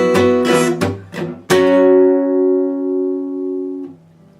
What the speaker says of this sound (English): So part 2 all together will sound like this,